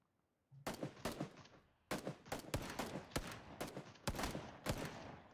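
Gunfire in the battle-royale game PUBG: repeated rapid bursts of automatic shots, loud and close, separated by brief pauses, with no voices over them.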